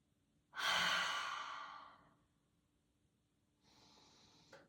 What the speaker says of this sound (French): Inspirez par le nez.